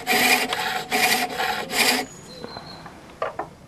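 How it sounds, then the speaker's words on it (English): A skew chisel cutting a groove and step into a beech spindle on a lathe makes three rasping bursts of rough scraping in the first two seconds, followed by quieter light taps and clicks. "we're just going to cut a little groove and a step with a skew chisel"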